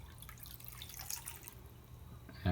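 A foam air filter is squeezed and pumped in a container of cleaning liquid, making soft close sloshing and dripping sounds that end with a louder splash.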